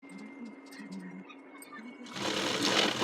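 A sewing machine stitches blouse cloth, a quiet start under a talking voice, then a loud, fast, steady whirring run of stitches.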